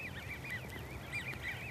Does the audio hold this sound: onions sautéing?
no